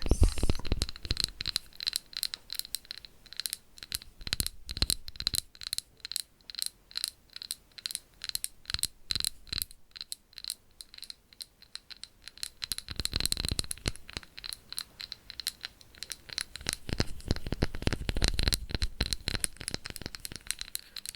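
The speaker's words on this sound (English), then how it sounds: "Glass sounds are another one of my favorite triggers." Sharp glass clinks and taps from handling a glass jar with a lid and sticker, close and crisp in quick irregular bursts with brief pauses between clusters, nearly no talking.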